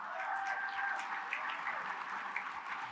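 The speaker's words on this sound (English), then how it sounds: "another round of applause for all of our sponsors" Audience applause for event sponsors at a business women's awards gala, a steady wash of many hands clapping throughout, moderately loud, with no talk over it.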